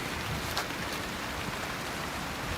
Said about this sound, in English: It's starting to rain really hard.